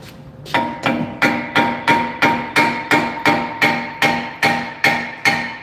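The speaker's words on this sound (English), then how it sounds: "Hammer. Hammer time." Steady hammer blows on the brake assembly of a 2017 Honda Pilot during a pad and rotor job: about a dozen loud, evenly spaced metallic strikes with ringing overtones, close up and alone.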